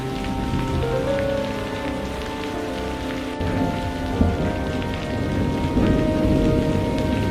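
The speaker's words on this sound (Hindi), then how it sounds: "बिजली गरजी जैसे आसमान फट पड़ा हो।" Heavy rain pours steadily on surfaces during a storm, with low rumbles of thunder rolling underneath, continuous and fairly loud throughout without any voices.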